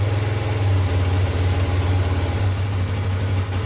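A brand-new 2022 Bashan Brozz 250 dirt bike runs on its first start after assembly, its engine idling steady and loud up close with a rough, pulsing throb and no talk.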